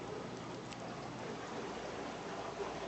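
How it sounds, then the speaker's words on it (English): Steady trickling, seeping water through a DIY overflow box on a large homemade 1150-gallon plywood aquarium, a continuous soft broadband wash with no breaks, moderately quiet and close. "the water seeps through"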